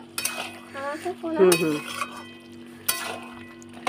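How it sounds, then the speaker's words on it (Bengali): A utensil stirs Malabar spinach (pui shak) curry cooked with a hilsa fish head in a pot, giving a few sharp clinks and scrapes spaced apart, with a voice audible between them. "পুঁই শাকটা ঢাকনা খুলে নিচে একটু নেড়ে নেবো।"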